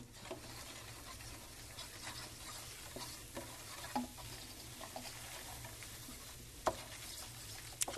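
Flour cooks with a quiet, continuous sizzle while a utensil stirs and scrapes it around a pan for gravy, with sharp clicks where it knocks the pan; faint and close, no talking.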